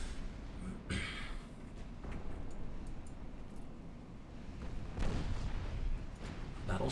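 Naval guns fire in the warship game Ultimate Admiral Dreadnoughts, with a couple of distant, muffled booms standing out over a quiet, rumbling battle backdrop.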